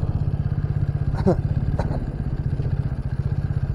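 A motorcycle is ridden across Coronation Bridge to be parked on the far side, on a trip from Siliguri to Gangtok. A close, steady pulsing engine chug runs throughout, with a few faint clatters.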